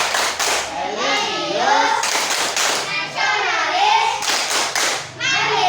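A group stands for the Indonesian tepuk PPK, a school-style clapping chant: young voices chant slogans in rhythm, broken by sharp unison claps and quick clap bursts, close and loud.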